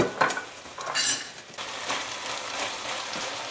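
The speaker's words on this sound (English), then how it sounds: "we're going to saute this up and stir fry it" Egg foo yung is sautéed and stir-fried in oil in a wok-style fry pan: a close sizzle with a few quick scraping and clattering strokes against the pan.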